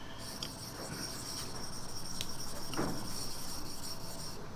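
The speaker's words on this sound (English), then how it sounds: "Using a 1000 grit stone, I remove the scratches from the previous stage." A single-bevel blade is worked on a 1000 grit whetstone, producing quiet, continuous gritty rasping with a steady back-and-forth stroking rhythm and nobody talking.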